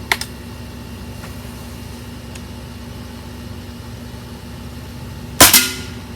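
A Diana RWS 48 .22 air rifle fires through a chronograph: a sharp crack at the start, quiet low hum, then a second loud report near the end with a brief ringing tail.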